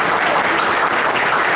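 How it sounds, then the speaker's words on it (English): Guests at a community dinner clap in a dense, continuous burst of applause filling the room, steady and fairly loud throughout. "Let's have a round of applause for all the Muslims."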